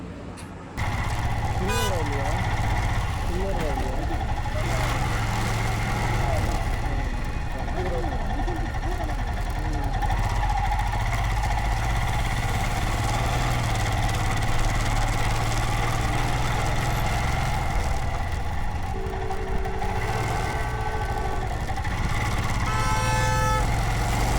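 A motorcycle rides along a road at night, its engine droning steadily and close throughout with wind rush, while people talk over it.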